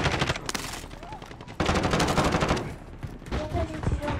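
Gunfire in the Free Fire battle royale game, a dense, loud rattle of rapid shots running throughout, with a sharper burst partway through and game sounds layered over it.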